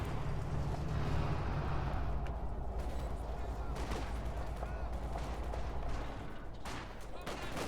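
Gunfire and artillery explode in a Company of Heroes 2 match, a dense continuous barrage of shots and booms with rumbling low impacts, loud throughout and easing slightly near the end.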